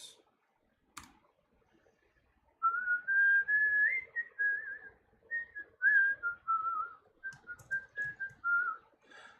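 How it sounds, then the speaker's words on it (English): A person whistles a wavering, sliding melody in short phrases, loud and close, after a few sharp clicks and a quiet pause. "Is whistling irritating?"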